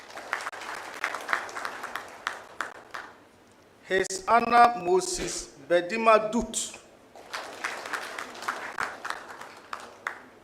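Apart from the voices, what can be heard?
audience applause for circuit court judges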